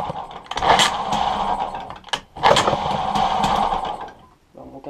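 A Tomahawk MR1 motor being started after reassembly, coughing into a buzzing, high-pitched idle that drops out briefly midway and restarts, close and fairly loud.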